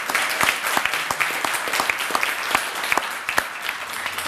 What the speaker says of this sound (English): we need to start off with a warm round of applause for Ambassador Ed.